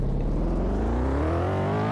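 A police car in the game PolyCity RP accelerates, its engine note climbing steadily in pitch as it revs up, loud and close with no talk over it.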